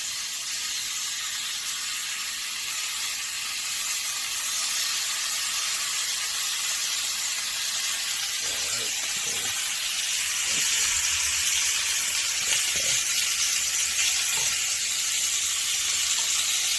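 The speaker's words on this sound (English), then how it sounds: "we're gonna fry up this bacon. No grease, because we don't need any" Strips of bacon frying in a dry pan with no added grease, a steady broadband hiss and sizzle running throughout with a few faint clicks and pops partway through.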